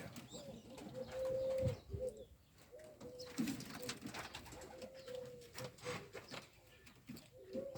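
Ödemiş kelebeği breed pigeons coo softly in short repeated phrases, fairly close, over a low background of rustling and faint ambient noise.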